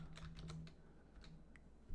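Keys on a computer keyboard tapped in a quick burst of a few clicks, then a couple of scattered strokes, close and fairly quiet against a low room hum.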